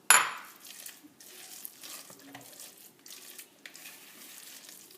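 Batter of corn and chicken with thinly sliced kaffir lime leaves being stirred for an omelette, soft wet scraping and sloshing strokes in a bowl, quiet and close, after a brief clatter at the start.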